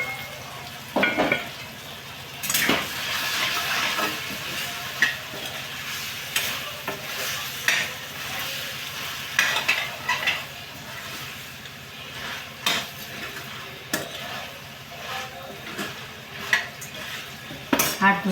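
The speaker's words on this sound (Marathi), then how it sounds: "आता भाजी झाली मिक्स करून टाकू." Vegetables are stirred and mixed in a frying pan, a soft continuous sizzle marked by repeated scrapes and clinks of a utensil against the metal, close up and with no voices.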